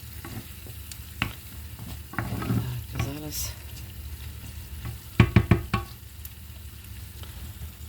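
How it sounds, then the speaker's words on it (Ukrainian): Borscht vegetables with two spoonfuls of mayonnaise fry and stew in a pan, with a soft steady sizzle under spoon-stirring scrapes and a quick burst of clatter near the end, plus a brief spoken phrase. "Отак хай воно трошки піджариться, підтушиться все гарно."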